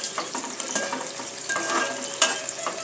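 Dried shrimp fry in a pan with a close, steady sizzle, while a utensil stirs and scrapes against the metal in frequent clinks.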